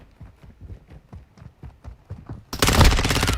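Gunfire in Call of Duty Modern Warfare II: a run of evenly spaced, fairly quiet footstep-like thuds leads into a sudden loud burst of rapid automatic fire that lasts to the end.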